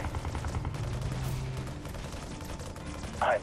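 Sustained gunfire from units in Halo Wars Definitive Edition rattles in continuous overlapping bursts, loud and steady, with a short sharp blip near the end.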